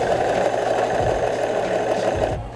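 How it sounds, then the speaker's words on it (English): Fast, steady mechanical chatter of a sewing machine stitching a rim around a garment hood, running continuously and close before stopping abruptly at the end. "I'm gonna sew a rim around the hood"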